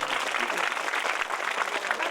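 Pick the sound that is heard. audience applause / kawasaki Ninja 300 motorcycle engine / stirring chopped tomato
audience applause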